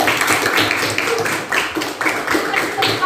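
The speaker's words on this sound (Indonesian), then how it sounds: "tepuk tangan untuk anak teman" Students in a classroom clap for a classmate group after a presentation on fermented tape, the hand claps arriving in loud, uneven rhythmic bursts that swell and dip repeatedly.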